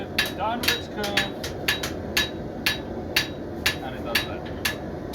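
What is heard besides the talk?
hammer forging a knife from round bar stock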